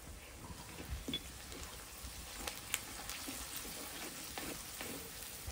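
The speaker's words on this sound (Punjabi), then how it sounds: "ਸੱਤ 8 ਮਿੰਟ ਹੋ ਗਏ ਆ ਪਿਆਜ਼ ਨੂੰ ਭੁੰਨਦੇ ਹੋਏ।" Onions frying in a pan with garlic, ginger and green chillies, heard as a faint, steady sizzle with a few soft clicks and scrapes, close but quiet.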